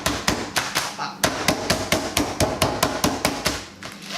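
A meat mallet pounds raw chicken flat on a kitchen board in a fast, steady series of sharp, close thuds, about a dozen blows with a brief pause near the start.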